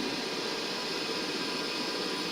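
A helicopter in a video game gives off a steady, dense engine and rotor roar that holds at an even loudness throughout, with no speech over it.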